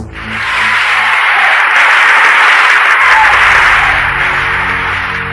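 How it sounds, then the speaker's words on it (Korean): A large crowd bursts into sustained, loud standing-ovation applause during a speech, swelling quickly and holding steady before starting to taper off. "연설 도중 33번의 기립박수가 쏟아졌습니다"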